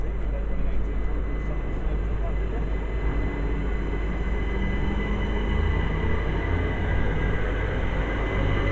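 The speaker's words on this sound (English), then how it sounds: "departing is the 1800 Southern service to Clapham Junction" A Southern passenger train departing Harrow & Wealdstone station, heard as a steady low rumble and rolling wheel noise at moderate distance, with a constant hum throughout and no sharp peaks.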